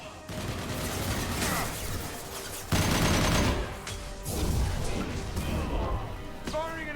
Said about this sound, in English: I love the sound of the Lancer.